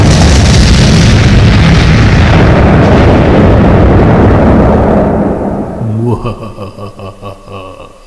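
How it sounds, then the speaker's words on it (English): A pipe bomb explosion in a puppet comedy sketch roars loud and sustained for about five seconds, then fades as voices and other sounds take over. "It's a pipe bomb!"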